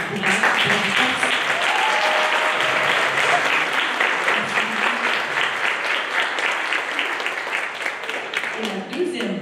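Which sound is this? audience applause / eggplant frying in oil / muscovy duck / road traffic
audience applause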